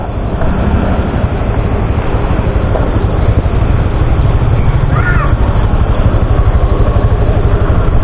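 A motorcycle engine chugs steadily on a rough mountain road, a loud, dense, unbroken rumble that stays close for the whole stretch with only a faint voice briefly above it.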